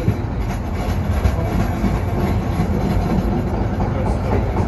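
Green Line Extension light rail train rolling along with a loud, steady rumble and rhythmic clatter of wheels on track, heard from inside the car throughout.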